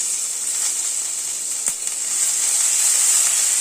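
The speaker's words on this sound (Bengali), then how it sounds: "কারি পাতাটা একটু ভেজে নিচ্ছি।" Curry leaves frying in a pan for a quick dal, giving a steady, bright sizzling hiss that holds continuously and swells slightly toward the end, heard alone without talk.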